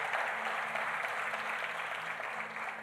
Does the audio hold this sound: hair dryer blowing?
no